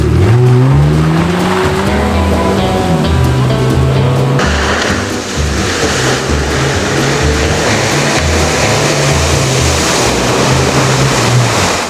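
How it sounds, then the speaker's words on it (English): A Nissan TB48 Patrol drives off-road in a loud, continuous run, its engine rising in pitch and then holding a steady low rumble, with splashing or gritty wash rolling over it from about four seconds on. "we've got Dan from Aussie Arvos steering the mighty TB48 Patrol"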